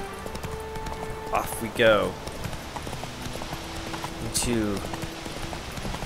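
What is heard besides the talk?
horse hooves galloping in video game The Witcher 3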